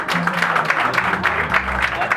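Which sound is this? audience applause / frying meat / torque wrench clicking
audience applause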